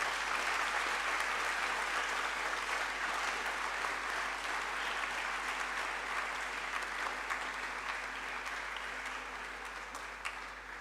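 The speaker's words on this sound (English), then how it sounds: "join me to applaud this outstanding scholar" An audience applauds after an inaugural academic lecture, a sustained, dense clapping from a large crowd that holds steady for about ten seconds before slowly thinning.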